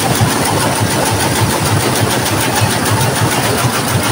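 Multi-head embroidery machines running together in an embroidery work area, a loud, dense, continuous mechanical whir with a rapid steady pulsing and no pauses.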